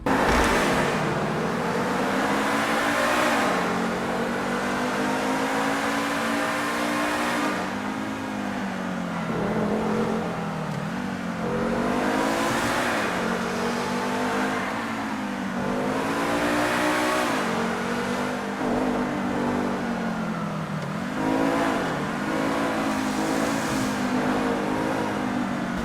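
An SC1 car on a test drive accelerates hard, its engine pitch climbing and dropping repeatedly through gear changes in a loud, continuous run with no talking.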